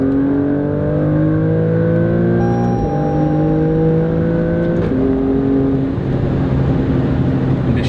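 Alfa Romeo Stelvio Quadrifoglio SUV engine pulling hard under acceleration, a loud, steady roar with rising revs and quick gear changes from its ZF 8-speed automatic, heard from inside the cabin.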